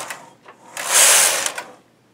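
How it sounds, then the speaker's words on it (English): A knitting machine knits across its end needles with a brief, loud sliding rush of carriage noise that swells and fades within about a second, framed by a few soft clicks. "So, knit my end needles"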